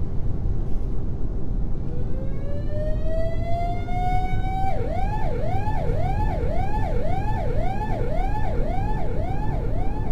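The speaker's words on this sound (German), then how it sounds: "Der Krankenwagen läuft da weiter." Ambulance siren in Euro Truck Simulator 2 in England, rising in a long wail and then switching to a rapid repeating yelp, loud and steady over a constant engine rumble.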